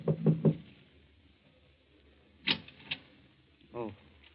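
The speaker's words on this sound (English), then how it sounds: "knocks at the door of number" Three firm knocks rap on a door in an old radio drama, followed by clicks of the door opening and a brief voice, with quiet pauses between.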